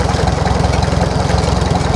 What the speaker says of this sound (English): Powered by a Farmall tractor.